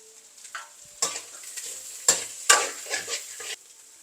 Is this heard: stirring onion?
yes